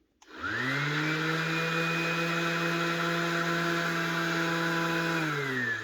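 An OZITO random orbital sander switches on with a quick spin-up, then runs at a steady, close, high-pitched motor whine for several seconds before beginning to wind down at the very end.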